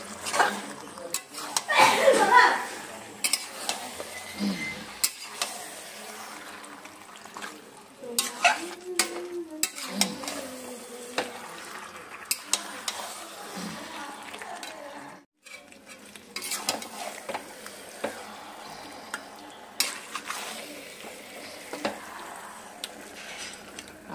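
Mutton kosha is stirred in a pan, with a spoon scraping and clinking against the metal over a soft sizzle, in bursts through the clip while a person talks intermittently.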